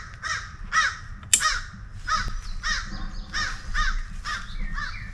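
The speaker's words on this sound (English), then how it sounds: "There's a crow that's not happy that I'm here." A crow caws repeatedly in a steady series of harsh calls near a campsite, moderately close, over a low rumble of wind or outdoor background.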